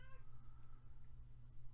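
A pet cat gives a short, slightly drawn-out meow right at the start, then only a steady low hum and faint room noise follow.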